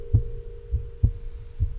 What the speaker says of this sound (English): That heart beating.